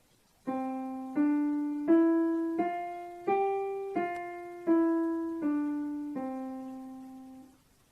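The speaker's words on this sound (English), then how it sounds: "the group of notes must be connected and played smoothly" A smooth, connected melody of about ten sustained tones flowing one into the next at an even pace, played alone with no gaps between notes.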